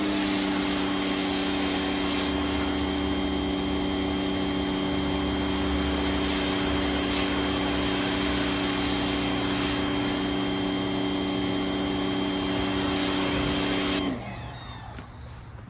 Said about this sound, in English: when you're using pressure washer, try not to avoid your seams around your windows and stuff.